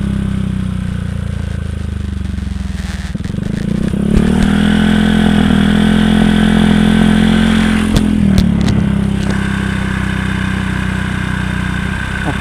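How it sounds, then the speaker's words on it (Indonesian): A motorcycle exhaust idles at low RPM with a steady, close, throaty rumble. The engine note swells briefly in the middle before settling back to idle, and no one talks over it. "mungkin udah bisa langsung gua simpulkan aja ya untuk suara dari knalpot ini"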